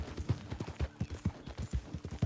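Rapid rhythmic hoofbeats of a galloping horse in the video game Red Dead Redemption 2, steady and close, with no one talking.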